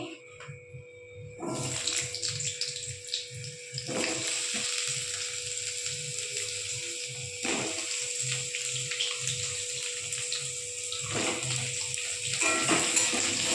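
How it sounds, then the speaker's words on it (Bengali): Continuous hissing sizzle of potatoes frying in oil in a wok, with periodic clinks and scrapes of stirring. "এবার আলুগুলো ভেজে নেবো।"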